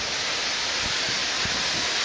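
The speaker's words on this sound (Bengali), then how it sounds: "বৃষ্টির শব্দ আপনারা শুনতে পাচ্ছেন যে কি ঝুম বৃষ্টি" Heavy downpour pours down on a river bank by a ferry landing, a loud, unbroken broadband hiss of rain filling the whole scene with a few dull low thumps beneath it.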